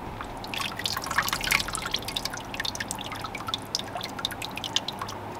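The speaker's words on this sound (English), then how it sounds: "I'll take that and let it drain for a couple minutes" Grease drips and trickles from strained hamburger meat for chili in a rapid, irregular patter of small drops. The sound is close and steady, with no talking.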